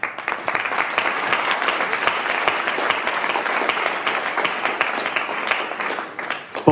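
Wedding guests applaud during the groom's speech, a sustained, fairly loud wash of many hands clapping that holds steady throughout, with a few sharper individual claps standing out.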